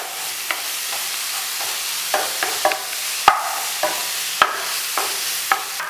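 A vegetable cutlet mixture with beetroot being stirred in a pan, steady sizzling under repeated sharp scrapes and taps of the spoon against the metal, with no voices.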